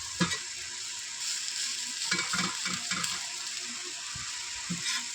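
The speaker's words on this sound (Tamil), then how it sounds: "எடுத்து வச்சுட்டு அடுத்த தோசையை ஊற்றுவோம்" Dosa batter fries on a hot pan with a steady, close sizzle that runs throughout, broken by a few soft clinks and scraping touches; no one speaks.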